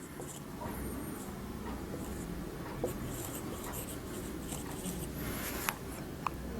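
Handwriting of a journal entry narration for an accounting exercise, a steady soft scratching of pen on paper running throughout, close and continuous, with a few faint clicks and no talk.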